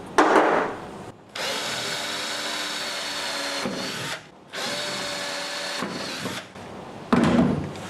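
A power drill whirs in two long bursts, driving screws into the wooden feet of a potato box, with short pauses and some clunks between the runs.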